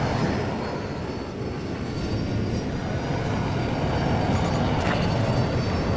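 F-35 fighter jet engine in the Battlefield 2042 game: a steady, loud roaring rumble that holds throughout without a break, with a brief brighter swell near the end and no talk over it.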